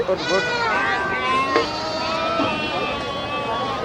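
Several goats at a busy goat market bleat repeatedly in wavering cries, close and fairly loud, with people's voices mixed in around them.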